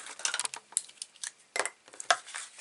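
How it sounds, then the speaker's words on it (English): Scissors snip through a piece of paper card, a run of quick crisp cuts and rustles close up, irregular in rhythm, with no talk. "I'm just going to cut that out with my scissors."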